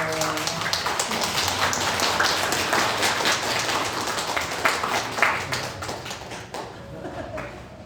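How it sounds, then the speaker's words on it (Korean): A church congregation applauds, a dense steady wash of clapping from many hands filling the room, loud and continuous before tapering slightly near the end, with a voice or two faintly underneath. "큰 박수로 축하해 주시기 바랍니다"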